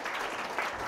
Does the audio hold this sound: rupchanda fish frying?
no